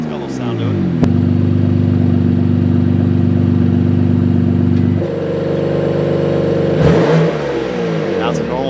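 BMW M2 CS engine revving hard with its exhaust valve open, a loud close sustained drone that steps up in pitch midway, then a sharp throttle blip near the end.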